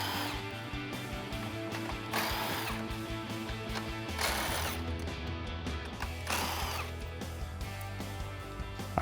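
Impact gun with a deep socket spinning off 10mm bolts on a 2014-2015 Silverado 1500 during a headlight install, a steady mechanical whirring with several louder bursts of hammering rattle between softer stretches.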